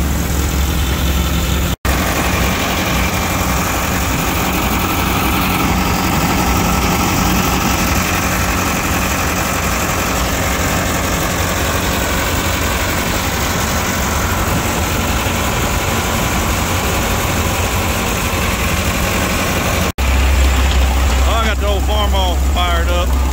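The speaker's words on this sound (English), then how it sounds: "they finally got the belt situation fixed on the old threshing machine" An old threshing machine runs on its belt drive while an engine idles, making a loud, steady low rumble and mechanical clatter close by that holds throughout with a few sharp knocks.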